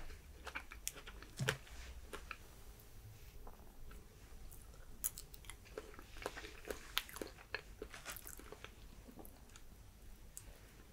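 Close, crisp bites and wet chewing of fresh fruit dipped in toffee sauce, with irregular crunches and squishy mouth sounds over a quiet background, no talking.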